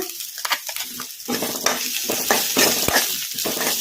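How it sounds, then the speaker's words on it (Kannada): Sliced onions and green chillies fry over a medium flame in a pan, a steady loud sizzle running throughout with scraping stirs and clinks of the spoon, close by and without talk. "ಉಳ್ಳಾಗಡ್ಡಿ ಹಸಿಮೆಣ್ಸಿನ್ಕಾಯಿ ಒಂದು ಸ್ವಲ್ಪ ಫ್ರೈ ಆಗೋವರೆಗೂ ಫ್ರೈ ಮಾಡ್ಕೊಂಬಿಡೋಣ"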